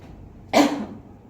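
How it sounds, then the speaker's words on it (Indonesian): A single deliberate, forceful cough from a person demonstrating an effective cough technique, a short sharp burst that tails off quickly, close and clear against a quiet background. "Jadi tarik nafas, tahan 2 detik, langsung dibatukan, dikeluarkan melalui batuk"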